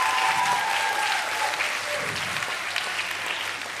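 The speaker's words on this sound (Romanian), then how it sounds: "Deci vreau încă un rând de aplauze" A theatre audience at a stand-up roast show claps in a dense, enthusiastic round that gradually softens over a few seconds.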